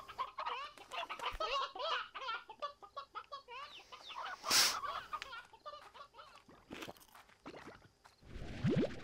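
Stony Hen chickens in the video game Slime Rancher give soft repeated clucks, accompanied by crunchy, squishy game effects and a sharp burst midway, quiet overall with no talking.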